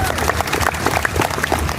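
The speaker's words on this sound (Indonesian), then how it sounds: "Tepuk tangan dulu untuk Kombes Faisal." Applause from the audience at a school reunion and Halal bi Halal gathering, steady dense clapping mixed with crowd murmur and some voices throughout.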